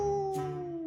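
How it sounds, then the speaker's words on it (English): A wolf howl, a single long sustained wavering cry held steady for about a second, fairly close and alone, with no talk over it. "Suddenly, they heard a chilling howl."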